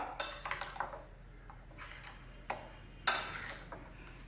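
A spoon clinks and taps against a bowl as marinated paneer pieces are tossed together, a handful of sharp close knocks spaced unevenly with quiet gaps between, no voices.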